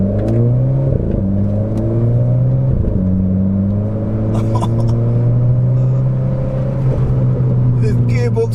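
A Renault Clio RS engine revs up through the gears with a little burble, a steady droning growl with rising and falling harmonics as it shifts, close and loud.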